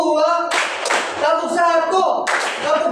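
A classroom group claps out a rhythmic pattern game, short bursts of sharp claps in a counted sequence, closely interleaved with a teacher's chanted call.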